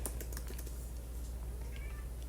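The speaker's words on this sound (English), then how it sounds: "I'm sorry if you hear my annoying cat scratching at my door" A house cat scratches at a closed door in quick, dry bursts of scraping taps, faint and somewhat distant over a steady low hum.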